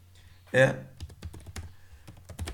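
Clicks on a computer keyboard entering a password, a scattered run of close, light taps after a brief spoken word.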